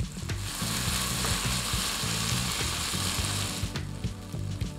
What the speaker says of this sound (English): Stir to mix until the sugar is dissolved.